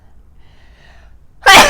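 A single loud, sudden human sneeze bursts out at the very end after a stretch of near silence with faint background hum.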